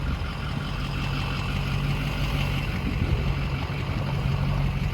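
A Ford PowerStroke diesel engine idles steadily after a fuel tank repair, a close, even low rumble with a constant drone that keeps an unbroken rhythm throughout.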